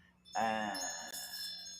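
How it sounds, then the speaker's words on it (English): A single bright metallic strike rings out with shimmering overtones that linger and fade, followed by a second high tinkling ring, soft and unaccompanied. "whether it's a bowl, a singing bowl,"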